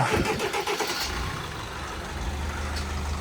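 A car transporter truck's engine starts at the beginning of a long haul trip in Ukraine, cranking briefly and then settling into a steady, low idle rumble.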